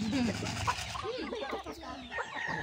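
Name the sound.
chickens clucking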